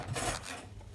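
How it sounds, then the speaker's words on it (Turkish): A teaspoon scrapes tahini from the inside of its container, a close, steady raspy rubbing lasting about a second. "tahinimizi, bir çay kaşığı yardımıyla içini temizleyelim."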